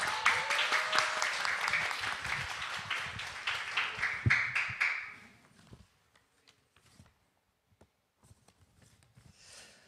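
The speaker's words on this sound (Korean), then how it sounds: "우리 말씀을 기대하는 마음으로 박수로 함께 환영하겠습니다" A church congregation applauds warmly for several seconds at a Friday evening service to welcome the preacher, the clapping dense and close, then tapers off into scattered claps and quiet room noise.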